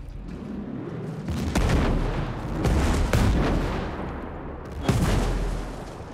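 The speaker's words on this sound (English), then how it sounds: "Hostile mortars incoming." Hostile mortar rounds exploding in the video game Ghost Recon Breakpoint: several loud, heavy booms and blasts arrive in uneven succession over a dense rumbling din, with no talking.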